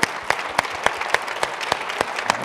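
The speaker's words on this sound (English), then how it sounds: "Applause" An audience claps together after a talk, a brisk and fairly even run of claps with close, sharp peaks.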